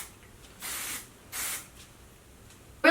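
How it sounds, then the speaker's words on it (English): Two short, close hissing spritzes of a hair refresh spray, evenly spaced about a second apart, with quiet in between and a small click at the end. "I'll do a quick spray"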